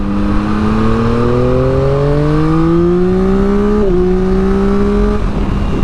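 Yamaha MT-09 motorcycle pulling hard in second gear from around 4,000 RPM after an ECU recall update, its engine note rising steadily in pitch, loud and close, with a brief dip near the end before it climbs again.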